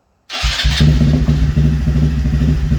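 A Honda Grom motorcycle with an Aodonly Racing low side-mount loop exhaust, baffle removed, fires up abruptly and revs hard up close, a loud, raspy, deep rumble that holds high and steady.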